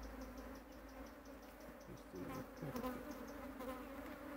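Honey bees buzz steadily around a hive while a queen is being released after a swarm capture from a mango tree branch, a dense continuous hum with brief handling sounds.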